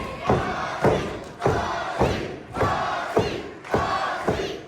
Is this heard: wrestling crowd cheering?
yes